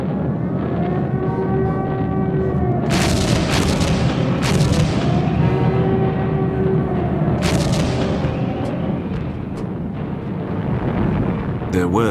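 Flak guns fire at British WWII bombers in a series of heavy booming bursts over a constant roar, with sustained tonal music underneath.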